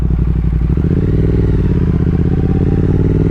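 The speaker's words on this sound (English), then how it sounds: "at idle on startup, not a bad little tone to it" A Triumph Speed Twin 1200 parallel-twin motorcycle idles just after startup, giving off a steady, close, throbbing rumble with a fast even pulse and slight mechanical clatter, continuous throughout and without speech.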